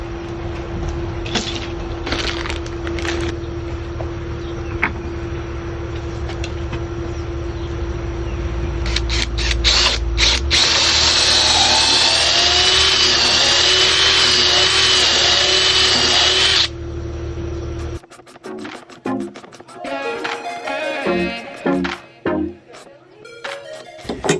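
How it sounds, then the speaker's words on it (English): A power drill or impact driver drives lag bolts into the wooden framing of a backyard deck, a long sustained whir that rises to a loud, strained grind before stopping abruptly, followed by a few short bursts and clicks. "Putting in lag bolts."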